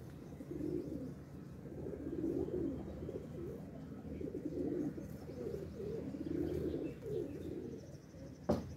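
Pigeons coo in soft, repeated low throaty phrases against faint background noise, with a brief sharp click near the end.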